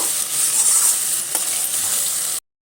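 Spices for a light chicken curry fry in a pan with a continuous bright sizzle and soft stirring, close and fairly loud, ending suddenly.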